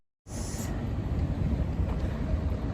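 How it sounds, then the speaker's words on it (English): Wind at Tokyo Station buffets the microphone, producing a steady low rumble and roar that starts abruptly and continues without pause. "it's windy today, so a bit hard to hear my voice maybe"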